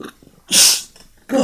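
A single sharp, loud sneeze bursts out close to the microphone, bracketed by softer breaths and a brief mumbled word, followed by another short breathy sound.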